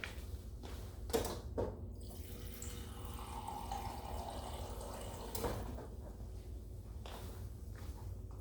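Running water pours steadily, like a tap filling a container, with a couple of brief knocks and clatters partway through; no one speaks.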